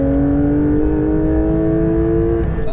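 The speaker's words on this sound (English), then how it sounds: "it's a harsh mechanical race car noise" A Porsche 992 GT3 flat-six revs up hard with a harsh, mechanical race-car wail, its tone climbing steadily and sounding loud and close throughout.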